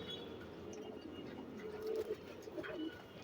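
An elderly pigeon gives soft, low coos, a couple of brief calls rising above quiet background noise, faint and close.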